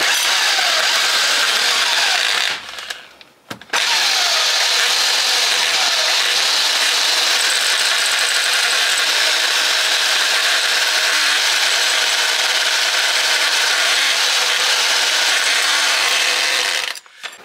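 A loud, continuous power-drill whine grinds steadily as a non-SDS bit in an old-style chuck bores into a cottage wall, cutting out briefly once before resuming at full strength until the end.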